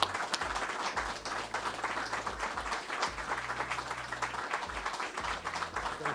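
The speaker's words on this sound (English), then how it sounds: "How come you got so much more applause than I did?" Sustained applause and clapping from an audience at a city police swearing-in ceremony in Brockton, with dense, continuous hand claps and a low background rumble throughout.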